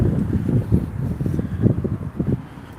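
Gusty wind at sunset in Los Angeles, buffeting the microphone in steady low rumbling bursts for a few seconds, close and fairly loud with no talk over it.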